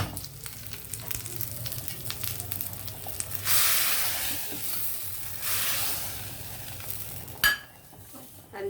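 A ghee tempering fries in a pan for a ridge gourd and lentil dish, a soft continuous sizzle with brief louder hissing surges and a short clink near the end.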